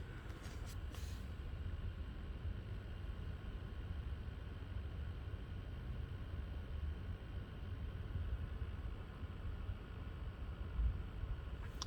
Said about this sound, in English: the motor noise on these fans is the worst I've heard on any fan